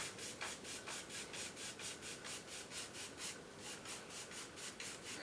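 A brush scrubs oil paint onto canvas in rapid crisscross strokes, a dry rhythmic rasp repeating about three times a second, close and steady with no talking.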